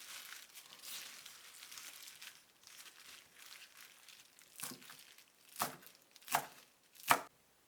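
A knife mincing fresh mint leaves on a board, a run of soft quick chops with crinkly leafy rustle that builds into three louder, distinct strokes near the end, close up with no talk.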